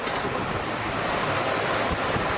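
Wind and waves rush steadily around a sailing yacht at sea during an Atlantic ocean rally, a dense, loud broadband roar with wind buffeting the microphone.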